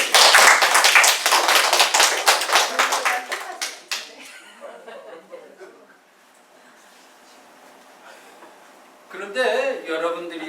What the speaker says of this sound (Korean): 한번 고흐를 위해서 수고했는데 박수 한번 쳐주세요.